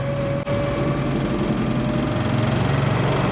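A Hummer from the Iraq-era fleet, started after years of standing, runs with a steady, loud, droning engine note and a faint steady whine, continuous throughout with a brief dip near the start.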